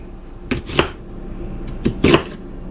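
Knife chopping a peeled onion into a coarse chop on a board, a few separate sharp cuts in two quick pairs, close and fairly clear with no talk.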